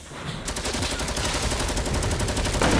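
Rapid automatic gunfire in Fortnite starts after a brief quiet moment and rattles on as a dense, even stream of shots, loud and close, with no talking over it.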